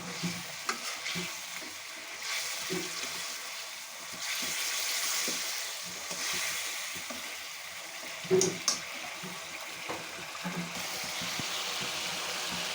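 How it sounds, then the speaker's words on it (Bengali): Fried fish heads being stirred and sautéed in a spice paste for a fish-head muriganto dal, giving a steady close sizzle with scraping stir strokes throughout and a brief louder clatter partway through. "ভালো করে মাছের মাথাগুলো কষিয়ে নেব মশলার মধ্যে"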